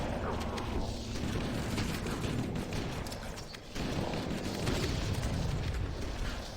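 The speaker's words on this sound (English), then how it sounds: "Did I just blow it away with my grenade?" Grenade blast in the shooter Halo: Combat Evolved Anniversary, a dense roaring burst of explosive rumble and gunfire-like crackle that holds loud, dips briefly, then surges again.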